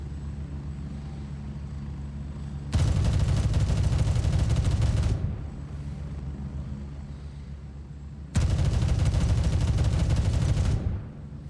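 Two long bursts of automatic fire from an M4 rifle in the shooter game Gray Zone Warfare, each a loud, dense rattle lasting a few seconds, separated by a quieter ambient pause.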